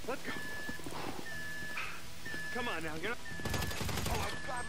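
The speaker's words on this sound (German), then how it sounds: "Schön, dass die auch drauf schießen." Gunfire during a bureau heist in GTA V, rapid repeated shots and bursts of automatic fire running under steady talk, growing denser and louder toward the end.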